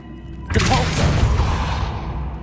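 A Depulso spell in Hogwarts Legacy bursts out as a sudden loud whoosh-thump that rings and fades over a couple of seconds, with faint magical shimmer in the tail.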